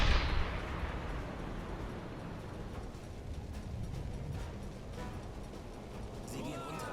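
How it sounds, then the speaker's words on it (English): U-boat deck gun firing at a convoy in a naval video game, opening with a heavy boom that fades into a long rumbling tail, with a voice talking over it. "A little bit of torpedo action, a little bit of deck gun"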